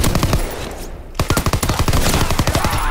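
Rapid automatic gunfire from a weapon in Call of Duty WW2, loud and close, with a brief pause before dense bursts of rounds resume in a quick, hammering rhythm.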